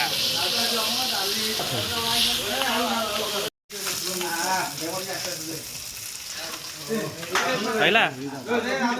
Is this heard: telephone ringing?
no